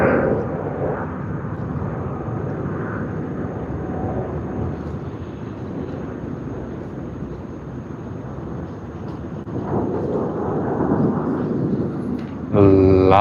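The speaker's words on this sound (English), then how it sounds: "Asiana Airlines A380 service on its way to Seoul Incheon." An Asiana Airlines Airbus A380 bound for Seoul Incheon takes off from Sydney Airport, a sustained, loud, broad jet roar that holds steady throughout and swells slightly near the end.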